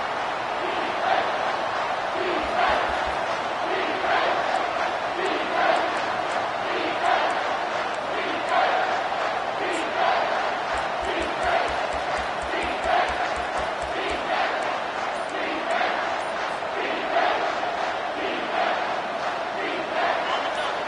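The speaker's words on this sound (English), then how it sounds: "Decibels rising as the crowd gets behind this defense on 3rd down." Stadium crowd in the NCAA 25 football video game roaring continuously on a third-down defensive stand, a dense sustained wall of cheering with rhythmic swells, loud and unbroken throughout.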